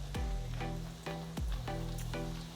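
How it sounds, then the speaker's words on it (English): Hot oil sizzling and bubbling steadily as a corn tortilla softens in it for enchiladas, with a few sharp clicks and scrapes from the pan, close and moderately loud, no voices. "once the oil is hot, we're going to dip our tortilla."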